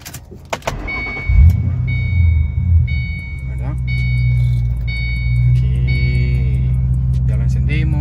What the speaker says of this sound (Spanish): Vamos a encender el vehículo.